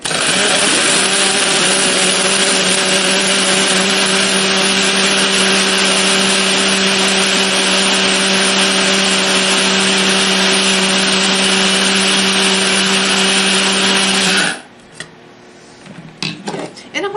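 An electric grinder whirs loudly and steadily as it pulverizes dehydrated lemons into powder, a constant high-pitched motor roar close up that cuts off abruptly near the end, leaving faint rattles.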